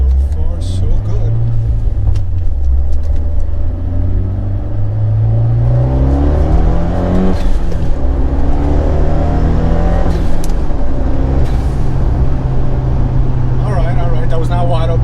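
A Fiat 124 Spider turbo engine pulls under light, easing throttle, its rising drone steady and close inside the car while a voice talks over it.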